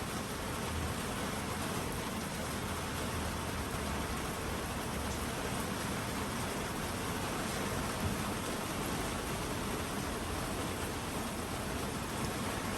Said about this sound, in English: it continues to rain